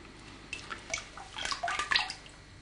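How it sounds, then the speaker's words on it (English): Glaze liquid poured into a raku pottery pot and quickly tipped back out, a string of wet splashing, gurgling pours and drips, close and fairly soft, with no one speaking. "I'm going to pour the glaze in and quickly pour it out again"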